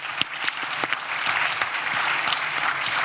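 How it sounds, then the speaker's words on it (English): Audience applause at a joint IMF–World Bank seminar on debt reform, a steady wash of clapping from a room of attendees lasting a few seconds, with no talk over it. "A round of applause for Zambia."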